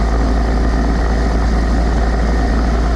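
Old motorcycle engine fitted with an Arlen Ness Stage 1 Air Sucker air filter runs steadily during a ride, a loud, continuous low rumble with no pauses and no talking.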